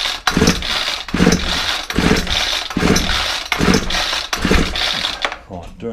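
A Ryobi 4-stroke string trimmer gets a series of about six rhythmic recoil pull-starts, each pull a loud rasping burst of cranking. The engine coughs but never settles into a running idle.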